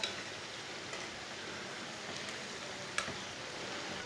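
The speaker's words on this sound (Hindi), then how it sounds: "2 मिनट तक फ्राई होने देंगे ये वाली साइड से" Potato tea-time snacks sizzle steadily in hot oil or ghee in a pan, a soft continuous crackle with a sharper pop near the end, heard alone without talk.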